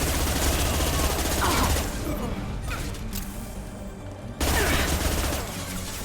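Rapid gunfire in Mass Effect 2 comes in dense bursts that briefly drop away during a short lull, then resume loud and continuous.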